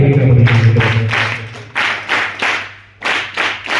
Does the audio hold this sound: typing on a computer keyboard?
no